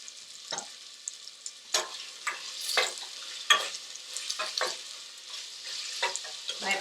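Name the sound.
onions and peppers frying in a pan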